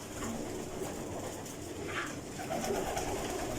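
Breeder pigeons in a Faisalabad loft coo softly and repeatedly over a dense, steady background of flock murmuring, close but gentle, with no talking.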